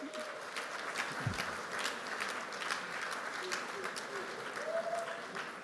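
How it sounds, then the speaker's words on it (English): Audience applause for event sponsors at a community leaders' celebration, steady dense clapping from a crowd sustained throughout, fairly distant and even in level. "let's give our sponsors a round of applause"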